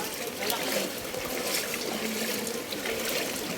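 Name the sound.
flood water flowing in street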